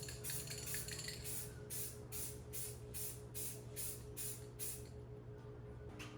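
Spray paint hisses from an aerosol can onto unsealed foam in a series of about eight short bursts in a regular rhythm, close and fairly quiet.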